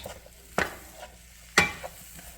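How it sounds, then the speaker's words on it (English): Sliced mushrooms with onion stirred in a frying pan: two sharp scraping strokes of a utensil against the pan over a soft background sizzle, close and fairly loud. "So we're going to stir that up here a little bit."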